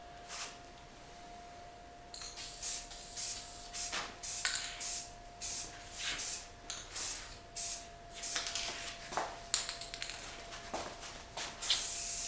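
Spray paint hisses onto a rifle in a string of short, separate bursts of light coats, each blast a crisp airy hiss broken by brief pauses, steady and close with no talking.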